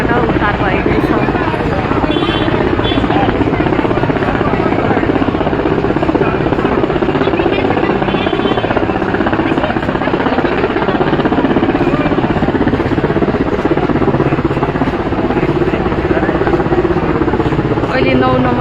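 A rescue helicopter flies over the Trishuli River in Nuwakot, Nepal, its rotor beating with a loud, close, relentless whirring roar that never lets up. A voice is partly audible beneath the din.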